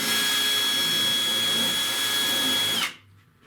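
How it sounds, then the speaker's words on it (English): A power drill runs continuously on a car body, opening up holes around the door handles during prep for painting, with a steady high whine that cuts off sharply near the end. "I'm gonna use a drill."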